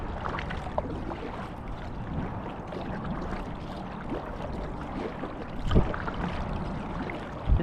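A kayak paddle pulls hard through the water in a continuous wash of splashing and churning strokes, close, with a couple of louder splashes toward the end.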